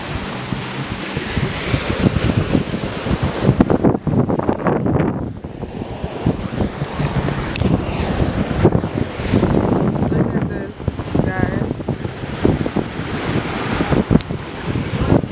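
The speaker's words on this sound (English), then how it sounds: "Show y'all the ocean." Ocean waves rolling onto the shore with strong wind buffeting the microphone, a continuous loud roar of surf and gusts throughout, with no clear talk.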